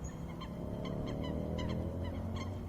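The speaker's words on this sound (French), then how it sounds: "On a le cliché d'entendre que les canards ça fait coin, donc là ça fait pas coin du tout, ça fait pip pip." Ducks on a lake give short honking "pip pip" calls in scattered clusters of two or three, fairly faint against a steady background.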